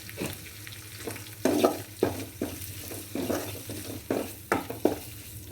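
Kashmiri chili powder stirred and heated in a pan, a soft steady sizzle under repeated scraping strokes of a spoon, close and moderately loud with no talking.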